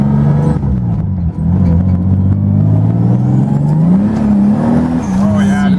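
BMW M46 turbo wagon with an open differential, its engine droning and revving steadily as the back end is kicked out, heard from inside the car, loud and continuous with pitch rising and dipping.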